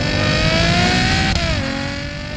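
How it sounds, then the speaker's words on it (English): A Ferrari GTC4 Lusso's exhaust note while driving, a loud steady engine tone that rises gradually in pitch, then dips and settles, continuous and close throughout. "melodious exhaust notes at any and all speeds"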